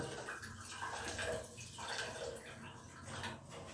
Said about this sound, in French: je fais les finitions avec une petite spatule, une éponge et de l'eau chaude